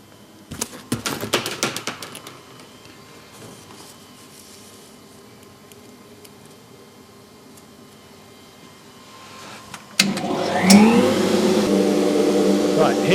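A CNC router fitted with a drag knife cutter, kept separate from the spindle, starts up after a few sharp clicks and then runs with a loud steady mechanical whine and rising tones close by.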